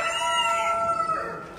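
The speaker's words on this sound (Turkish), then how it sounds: "yine Sultan Horoz var." A Sultan rooster crows loudly and close by at a poultry show in the Marmara region, one sustained, wavering call that trails off at the end.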